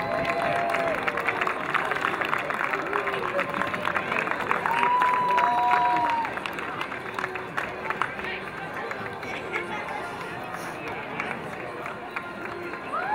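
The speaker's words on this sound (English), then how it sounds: "let's have a warm round of applause for our spring AA" An outdoor crowd at a youth baseball opening day gives a long, steady round of clapping and cheering for the spring AA 2013 teams, with some whistles and chatter mixed in.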